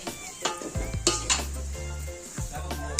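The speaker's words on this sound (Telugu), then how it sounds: "బీరకాయ ముక్కలు వేసుకోవాలి. వేసుకొని మొత్తం కలుపుకోవాలి." Ridge gourd pieces being stirred into masala in a pan, with a spoon scraping and clinking against the metal over a soft sizzle, in a few short, close strokes.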